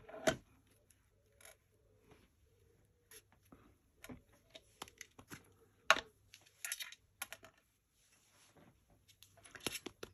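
A rubber craft stamp tapped lightly on a fairly new, juicy ink pad, giving scattered soft clicks and taps in irregular clusters, close and quiet against near silence.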